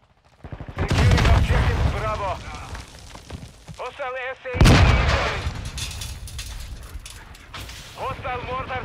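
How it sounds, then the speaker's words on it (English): A hostile mortar strike in Call of Duty: Modern Warfare II on the Valderas Museum map: two heavy, loud explosive booms with rumbling tails, a few seconds apart, mixed with in-game radio voice chatter. "Hostile mortar strike incoming."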